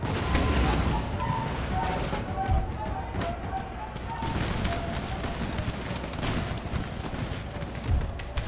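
Cannon artillery booms in the Empire: Total War battle game, a dense continuous roar of distant volleys and rumbling gunfire with scattered heavier thuds, a voice speaking faintly beneath.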